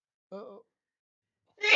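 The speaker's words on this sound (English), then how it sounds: "Hold on, I gotta sneeze." A brief vocal sound, a moment of silence, then a single sharp sneeze burst close to the microphone.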